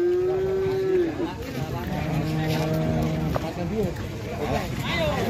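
A cow harnessed to a cart lets out a loud, close moo at the start, with steady outdoor noise and voices around it.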